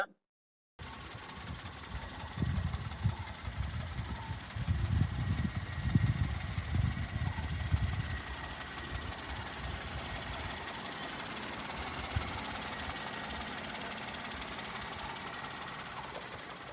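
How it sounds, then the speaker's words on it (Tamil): A Maruti car engine in neat condition runs at a steady idle, a continuous close rumble with uneven low thumping early on that settles into an even drone, with no talk over it. "இன்ஜினோட சவுண்டையும் கேட்டு பாருங்க"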